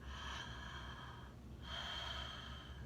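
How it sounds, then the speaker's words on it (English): Exaggerated breaths in and out through the mouth during a home therapeutic yoga practice, two long, airy, faint rushes of breath separated by a brief pause, close and quiet with no talking. "you could try a few breaths in and out through the mouth like this"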